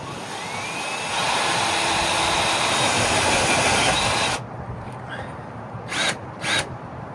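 A power drill whines steadily as it drives a self-tapping screw into RV sheet metal, loud and continuous for several seconds, then stops, followed by a few short bursts of drilling.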